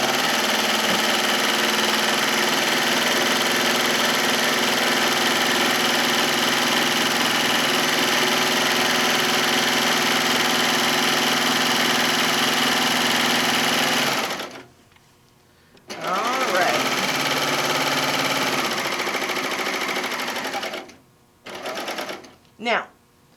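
Close and loud, a sewing machine hums continuously for about fourteen seconds while flat-seaming an apron, stops briefly, then resumes for another long stretch before a few short stop-start bursts at the end.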